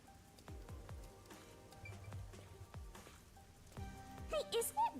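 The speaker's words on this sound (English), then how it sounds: "isn't it weird how it's not flooded, given how it's always raining here?" Steady rain falling in the video game Rain Code: a faint, continuous patter with scattered soft drops beneath ambient game sounds and a few short tonal effects near the end.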